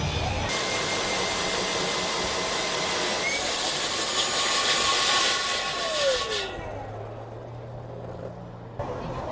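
Milwaukee FUEL battery-powered concrete saw cutting, a loud steady whining roar that holds for about six seconds before winding down and fading out.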